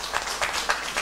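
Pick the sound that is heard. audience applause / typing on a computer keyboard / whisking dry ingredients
audience applause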